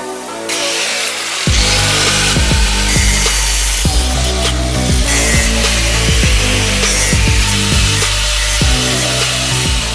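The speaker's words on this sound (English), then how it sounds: "So the first thing you're going to want to do is cut 4 of these metallic tabs which will hold the two shells together." A power tool cutting metal tabs for a DIY bench power supply casing, a steady loud grinding whine with repeated rhythmic strokes running throughout after a short quiet start, close up and with no talking.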